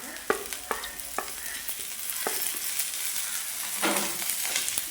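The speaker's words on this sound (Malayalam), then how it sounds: "അപ്പോൾ ഇതിലേക്ക് നമുക്ക് പച്ചമുളകും കറിവേപ്പില ഇട്ട് കൊടുക്കാം." Sliced onion, green chilies and curry leaves sauté in hot oil for samosa filling, a dense continuous sizzle broken by several sharp scrapes and taps of a spoon stirring the pan up close.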